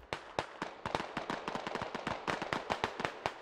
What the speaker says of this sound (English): Lots of shots popping off east, though.